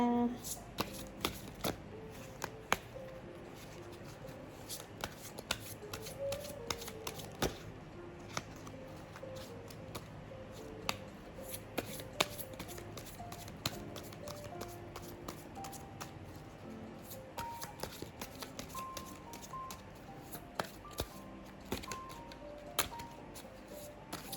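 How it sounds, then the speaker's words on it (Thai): A small, compact deck of playing cards is shuffled by hand over and over, giving quiet, close, repeated papery riffles and soft slaps at an uneven rhythm. "ขอสับไพ่ก่อนนะ"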